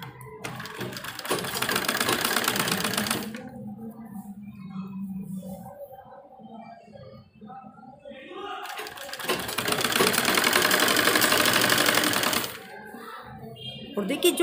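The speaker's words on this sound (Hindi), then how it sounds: "और किनारे किनारे पर हम सिलाई लगाएंगे।" A sewing machine stitches a sleeve onto a readymade dress in two loud, fast whirring bursts separated by a quieter pause, with someone speaking between and around the runs.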